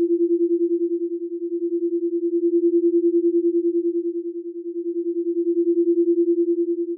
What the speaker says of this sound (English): Do you hear that rhythmic pulsing in your ears?